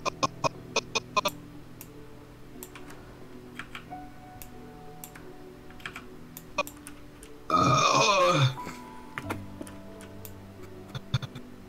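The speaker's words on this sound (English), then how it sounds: "belch" A single loud, rough belch of about a second, apparently from the game, bursts out in the middle of a stretch of faint clicks and ticking.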